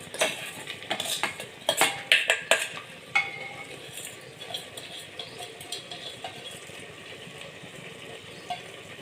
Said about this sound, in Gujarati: હવે આ સમયે આપણે આ ચોખા અને દાળ જે આપણે ધોઈને તૈયાર રાખ્યા છે એ નાખી દઈએ.